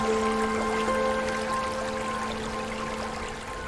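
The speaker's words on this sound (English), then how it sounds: "The sound of the water as well." Gentle flowing water beside a statue in the video game The Sojourn, a soft continuous trickle under sustained tonal music notes, steady and calm throughout.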